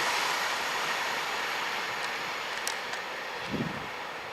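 A Class 170 diesel multiple unit passing through South Gyle station on an Edinburgh to Cowdenbeath Fife Circle service, heard as a steady, fairly loud broadband rumble with a faint low thump near the end and no voices.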